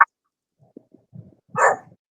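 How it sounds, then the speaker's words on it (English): A little dog gives a few soft yips and whimpers, then one louder short bark near the end, each brief and separated by quiet gaps, indoors with no talk over it. "we got a little dog."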